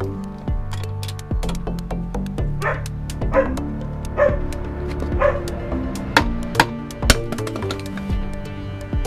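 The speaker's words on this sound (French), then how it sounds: "mais ils en font du bruit, ces chiens" Several dogs bark repeatedly in a loud, overlapping chorus of sharp yips and woofs, continuing through the whole stretch with no one talking.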